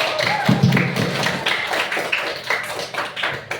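Children in a classroom clap their hands together, a quick, dense patter of many small claps that holds at steady loudness for a few seconds.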